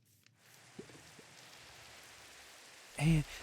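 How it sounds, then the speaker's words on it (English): Rain falling in the Minecraft video game, a steady soft hiss of drops that runs through the whole stretch, with a few faint knocks early on and a short louder burst near the end. "Now it's raining."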